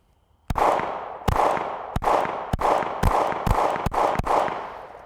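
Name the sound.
gunshots from a Canik MC9 pistol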